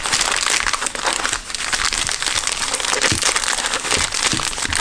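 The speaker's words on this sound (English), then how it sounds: "shuffle these packs a little bit." Panini Prizm trading card packs are shuffled by hand, their plastic wrappers crinkling loudly and continuously up close for several seconds without talk.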